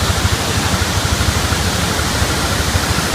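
Rushing water at Diyaluma Waterfall in Sri Lanka, a loud, constant broadband roar heard close up with no talk, steady throughout.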